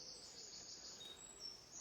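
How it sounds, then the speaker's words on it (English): Faint birdsong drifts through a big clear outdoor area near mature trees, a thin, continuous high twittering that stays steady and distant with no one talking. "And the bird songs."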